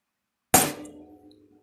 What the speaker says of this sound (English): I'm going to take a standard hammer and I'm just going to place some of these little